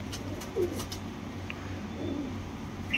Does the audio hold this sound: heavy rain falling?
no